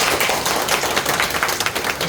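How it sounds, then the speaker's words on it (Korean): Church congregation in a Korean worship hall applauding together, a dense, even patter of many hands clapping at close range, continuous with no talking over it. "다시 한번 박수 부탁드립니다"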